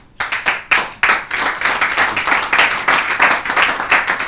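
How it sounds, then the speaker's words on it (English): Crisp, close applause from a small crowd after a real tennis final at a European Open, with a few sharp initial claps building into steady, even clapping that carries on throughout without any voices. "So Bryn disappears with the applause ringing in his ears after a marvellous game of real tennis"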